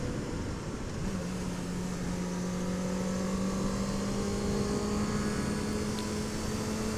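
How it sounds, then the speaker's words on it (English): Honda CB650F motorcycle engine while riding on a twisty road, a steady, continuous drone with a rising engine tone, loud and constant throughout, mixed with wind rush. "Maybe talk a little bit about how this bike is treating me, this"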